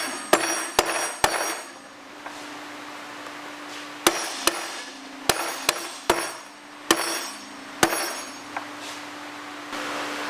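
Motorcycle engine case halves are tapped together during a lower-end rebuild, giving a dozen sharp, close metallic knocks in irregular pairs and singles, each ringing briefly over a faint steady hum.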